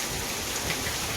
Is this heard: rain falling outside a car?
yes